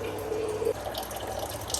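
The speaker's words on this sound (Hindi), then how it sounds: "यहाँ पे पानी भर रहा है मटके में, इसलिए आवाज़ आ रही है पानी की।" Tap water runs steadily into a clay pot, producing a close, continuous splashing and gurgling stream with a faint rising tone as it fills. No voices are heard.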